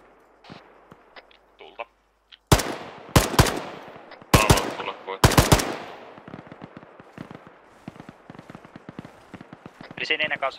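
Arma 3 combat gunfire: a quiet stretch gives way to several loud, close bursts of automatic fire, followed by a steady run of scattered, lighter shots and crackling reports to the end.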